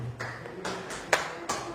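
A few scattered hand claps in a quiet room during an Ecoracing business presentation, about four separate sharp slaps spaced unevenly, with no crowd applause building up.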